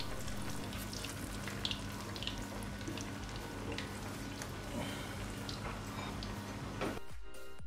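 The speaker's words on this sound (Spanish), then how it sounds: "Cuando esté caliente, incorporamos nuestra pechuga dorando ambos lados" Cordon bleu chicken breast browning in a hot pan of oil, with a steady close crackle and sizzle running for about seven seconds before it stops abruptly near the end.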